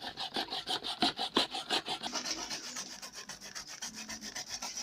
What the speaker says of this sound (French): je suis en train de gratter le dernier manioc